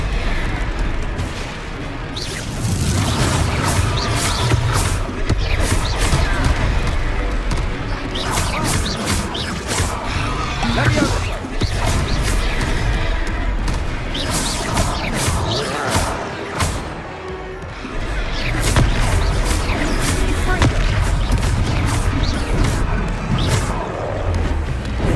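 Repeated Confringo blasting-spell explosions in the video game Hogwarts Legacy, dense booming impacts and crashes layered over continuous loud battle noise and music, with a voice heard in between.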